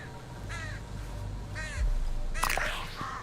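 A crow caws in Redfall, two or three distinct harsh calls spaced apart over low game ambience, followed by a louder burst of in-game noise.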